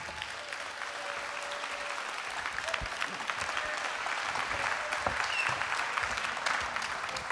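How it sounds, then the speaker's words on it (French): A church congregation claps steadily at a moderate distance, a continuous wash of applause that builds slightly in intensity partway through. "On peut les applaudir?"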